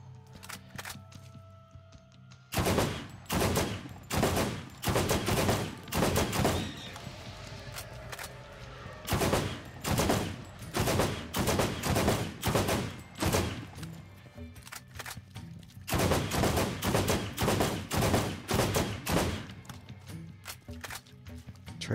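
Gunfire in the video game Borderlands, rapid bursts of shots in repeated volleys with short pauses between them, loud and dense over a steady game background.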